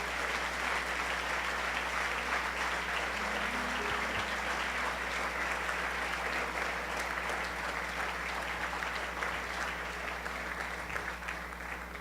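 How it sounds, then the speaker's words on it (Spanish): Sustained applause from a church congregation, steady and dense clapping throughout with no voices standing out. "denle un aplauso al Rey, por favor."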